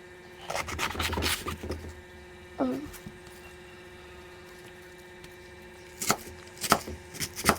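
A knife chopping cabbage for a salad on a board: a cluster of quick cuts early, a short lull, then a few more sharp chops near the end, fairly close and moderately quiet.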